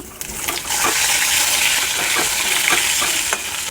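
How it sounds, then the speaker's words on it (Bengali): Steady, close-up sizzling of potatoes frying in hot oil with five-spice seeds and a dried red chili, with occasional soft scraping stirs cutting through the crackle. "আলুগুলো ভাজা হয়ে গেছে"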